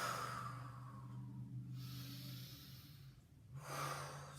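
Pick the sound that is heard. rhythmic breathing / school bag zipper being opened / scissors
rhythmic breathing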